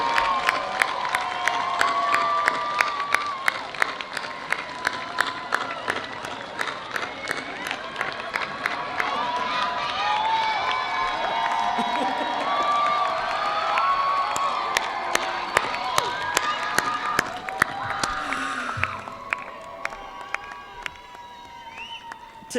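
A crowd at a 2022 nursing school commencement ceremony applauds and cheers for a long stretch, with sustained dense clapping, scattered whoops and shouts, and some voices mixed in.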